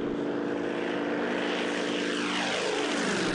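A propeller aircraft engine drones in the flight simulator IL-2 Sturmovik, a loud continuous buzzing roar with a pitch that sweeps as the engine shifts, with no voices.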